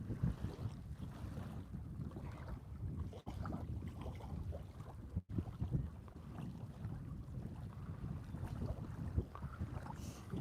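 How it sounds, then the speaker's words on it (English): Chilly wind blowing on a lake in California, a faint, steady rumbling gust with soft buffeting against the microphone, continuous with no talk. "this wind is getting chilly"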